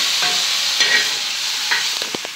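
Fresh fenugreek leaves fry in hot oil with a loud, close sizzle, while a utensil stirs and scrapes the pan in several quick strokes toward the end.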